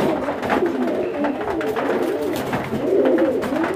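Red magpie fawn satinette pigeons coo continuously at close range, layering soft rolling calls over one another with no pauses.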